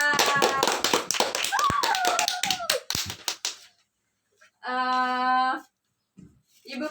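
Children clap rapidly in a classroom, a burst of close, loud, overlapping claps mixed with a voice, followed by a pause and a sustained tone.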